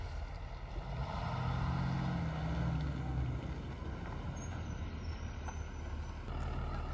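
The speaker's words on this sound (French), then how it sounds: "Voilà le bus de Violette qui arrive" A school bus pulls up outdoors: a low engine rumble rolls in and settles, with a hissing brake and a faint high whine near the end, heard at moderate distance with no talking.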